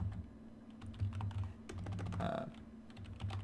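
Keys on a computer keyboard tapped in short bursts while a command is entered, quick close clicks over a low steady hum, with a voice talking faintly in between.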